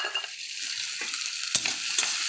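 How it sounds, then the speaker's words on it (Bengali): Onions with nigella seeds and green chillies frying in oil left from frying potatoes, stirred steadily in the pan, a constant near sizzle with a few brief scraping clinks, no talk. "এবার পেঁয়াজটা লাল লাল হওয়া অবধি নাড়তে থাকবো"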